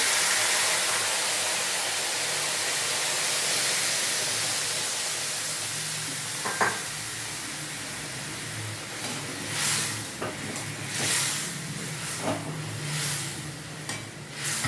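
Water with potatoes boiling in a pot for Bengali fish curry, a steady rushing bubble and hiss throughout, joined halfway by irregular pops and clicks of the rolling boil, close and continuous.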